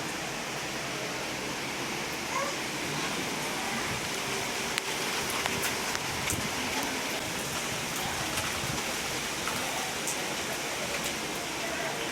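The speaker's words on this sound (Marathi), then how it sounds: "आता ना बाहेर मस्त पाऊस सुरू झाला" Steady rain pours down in a dense, even hiss, with scattered drips and patters standing out now and then, continuous throughout.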